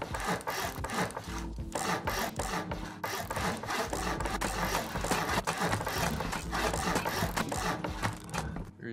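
Repeated wooden knocking and scraping from building and upgrading with a hammer in the video game Rust, dense and loud throughout with a busy rhythmic clatter and no talk.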